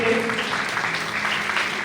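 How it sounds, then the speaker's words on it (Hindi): Loud applause from a church congregation at an Easter resurrection service, a thick continuous wash of clapping with a voice briefly audible at the start. "जोरदार तालियां इस बात के लिए।"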